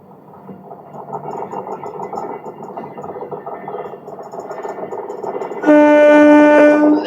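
A Kanpur-shed WAP-4 electric locomotive brings a train in at a station, wheels and carriages rumbling steadily close by before a loud, sustained horn blares over the end.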